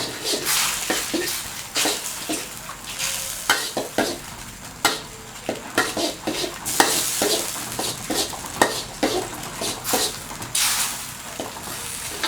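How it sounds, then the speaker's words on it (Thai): Starch batter for a tilapia dish being beaten in a pan, the spoon scraping and slapping in quick irregular strokes with a soft sizzle underneath, close and fairly loud throughout. "เราก็ตีจนกว่าแป้งมันจะ แตกตัวมามันเหนียวข้นดีแล้ว"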